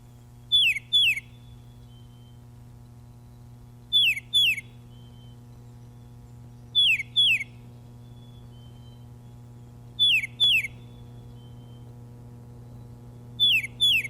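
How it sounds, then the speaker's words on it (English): A tufted titmouse perched in a cherry tree whistles its song, a clear two-note phrase repeated five times at regular intervals over a steady low background hum. "The singer is perched in a cherry tree, a small gray bird with a crest, a tufted titmouse."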